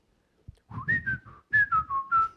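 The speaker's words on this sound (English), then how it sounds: "You're whistling." A short tune whistled by a person, about eight clear notes in a quick melodic phrase, close and alone.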